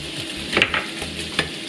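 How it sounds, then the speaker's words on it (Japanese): Young corn frying in a pan after bacon, a soft steady sizzle with a few light stirring scrapes near the middle, close and alone. "次にヤングコーン入れます"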